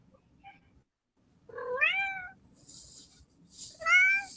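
An indoor cat lets out two clear, close meows a couple of seconds apart, each rising then falling, with a quiet room and faint hiss between them.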